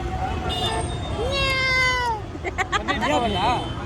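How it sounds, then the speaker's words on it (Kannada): A cat gives a drawn-out, rising and falling meow, followed by a few shorter wavering mews, with people's voices and crowd noise from a village fair around it. "ಇದು ಮಿಯಾವ್"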